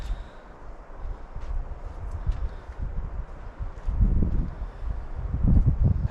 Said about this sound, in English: It's been windy all day.